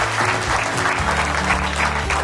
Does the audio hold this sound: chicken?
no